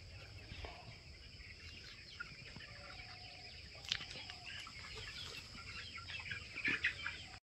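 Chickens on a village poultry farm cluck faintly amid steady outdoor ambience, with scattered soft calls and a brief rustle near the end.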